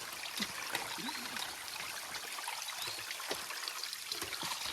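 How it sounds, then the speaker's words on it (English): Water runs and trickles down a flooded hiking trail on the Appalachian Trail, a steady broadband rush with light splashing, fairly close and moderately loud, with faint voices now and then. "I love when the trail is literally a waterfall."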